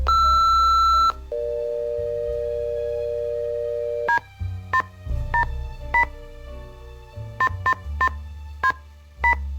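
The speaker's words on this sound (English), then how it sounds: "After the tone, please leave your name, phone number, and a brief message" An answering machine in the Nancy Drew game Secrets Can Kill sounds a long steady tone, then a series of short electronic beeps and dialing tones in an irregular rhythm, clear and close.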